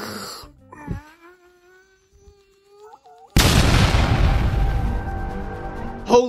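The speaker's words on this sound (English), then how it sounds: "Holy shit, he actually exploded!" A man moans and groans, then a sudden loud cartoonish explosion bursts in and rumbles on for several seconds before a short final noise at the end.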